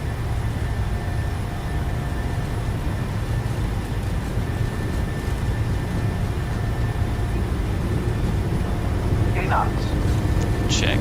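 Jet engines of a PMDG 737-800 in Microsoft Flight Simulator 2020 spool up to takeoff thrust, a steady loud roar and rumble that holds through the whole stretch.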